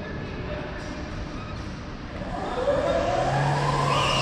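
A go-kart spins out with a rising engine whine and tire scrub that grow louder toward the end, while voices are briefly heard.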